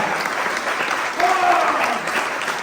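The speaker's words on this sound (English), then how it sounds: "If I can please get a cheer for the organizing committee and for our team as well." An audience at an award ceremony for a city badminton tournament applauds loudly and steadily, with dense continuous clapping and a few cheers close by.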